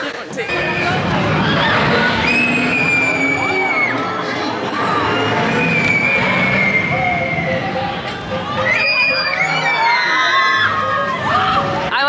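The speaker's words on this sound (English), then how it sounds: "I'll just show you what other people look like when they're screaming on the ride" Riders scream together on a roller coaster at Disneyland Paris, a dense, sustained crowd of high shrieks and cheers that swell and fade as the train passes, with busy park chatter underneath.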